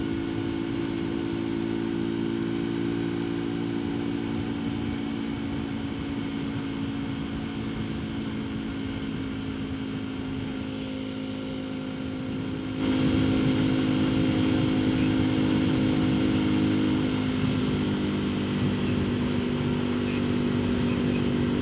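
A Janus Halcyon 250 motorcycle engine hums steadily on a ride along a country road, an even low drone with strong wind rush that swells louder midway as the bike picks up speed.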